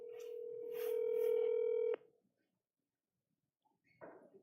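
A telephone call is placed during a Rockport city council meeting: a steady electronic phone tone sounds for about two seconds, then cuts off into near silence before a faint voice at the end.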